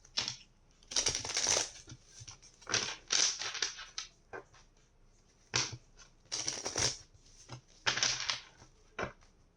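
A deck of tarot cards is shuffled in repeated bursts of crisp riffling and flapping, close and fairly quiet, with short pauses between each pass and no talk.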